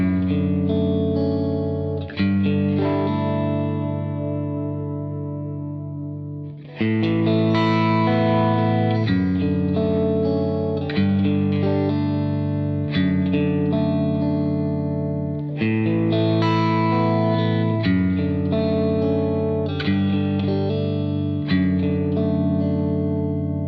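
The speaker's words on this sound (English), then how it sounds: "this is my go-to clean amp, and it sounds like this" Electric guitar through a clean one-channel AC-style amplifier, strummed chords ringing out loud and steady with a brief pause, full and sustained with no voices.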